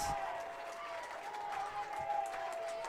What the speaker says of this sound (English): And that'll get a nice round of applause from the home supporters.